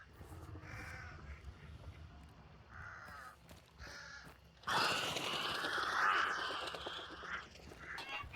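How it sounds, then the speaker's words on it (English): A flock of crows in Hunt: Showdown caws in scattered bursts, then erupts into a loud, sustained flurry of cawing and flapping midway that stays strong to the end over low ambience. "flocks of crows,"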